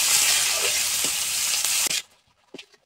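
Onion and garlic fry in a hot pan with a loud, steady sizzle and a few stirring scrapes. The sizzle cuts off abruptly near the end, leaving a couple of quiet clinks.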